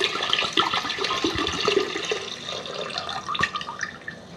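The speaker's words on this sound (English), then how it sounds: "you pour the entire bottle into a container." Spanish wine is poured from a bottle into a container, a steady splashing, gurgling liquid stream with bubbly irregular bursts throughout, close and moderately loud, with no talk.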